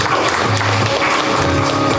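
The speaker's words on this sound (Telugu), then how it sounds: "చప్పట్లు కొట్టరా." An audience at a school Founders' Day ceremony claps in a short, dense burst of applause that fills the space.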